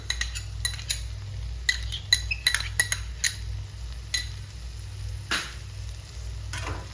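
Beaten yogurt being stirred into a cooked tomato mixture in a pan, with a metal spoon clinking and scraping repeatedly against the pan over a low hum and faint sizzle.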